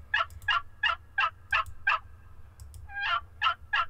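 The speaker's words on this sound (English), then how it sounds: "Oh, my turkey! There goes a turkey." A wild turkey in the video game Hunter Call of the Wild gobbles in quick, rapid rattling bursts, about ten close, clear calls with a brief pause midway, over a faint low hum.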